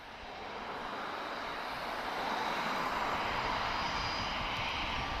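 An inbound Lufthansa airliner, first flown in 1994, approaches Lisbon Airport with a broad, steady engine roar that swells and holds loud and near throughout.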